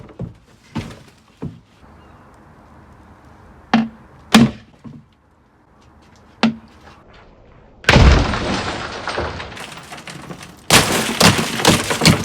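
Glass from a Ford Cosworth sunroof is smashed in a bin. A few scattered thuds and knocks come first, then two loud, close crashing bursts of shattering glass.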